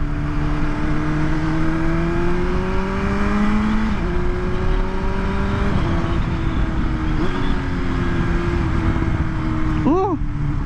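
A BMW S1000RR superbike on its stock exhaust, loud and close, the engine droning and climbing through rising revs over about ten seconds before a quick sharp blip near the end.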